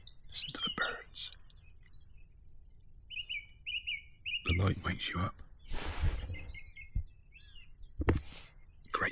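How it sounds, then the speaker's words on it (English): Birds chirp and twitter in short bursts in the early morning outdoors at a bikepacking camp, with a run of repeated whistled notes midway, mixed with a man's quiet speech and handling noise close by. "Listen to the birds."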